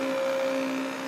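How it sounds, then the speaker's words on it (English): A stick blender whirs steadily while mixing soap batter, a continuous motor hum with a faint tonal whine, close and unbroken, with no talking. "And now move the stick blender around a bit."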